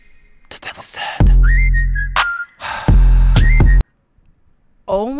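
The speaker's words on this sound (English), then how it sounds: "I think the whistling might be a part of the song" Whistling in a K-pop song teaser, heard in short melodic phrases between loud bursts of music, with gaps of near silence.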